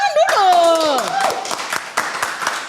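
An in-studio audience on an Indonesian talk show claps in quick scattered bursts, close and fairly loud, while a sliding voiced exclamation and lively talk sound over the top at the start.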